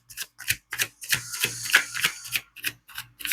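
Tarot cards drawn and shuffled from the deck, a quick irregular series of crisp, close papery snaps and flicks with short gaps between them.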